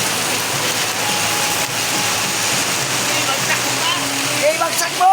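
Heavy monsoon rain from the habagat pours down in a dense, loud, continuous hiss, like rushing water.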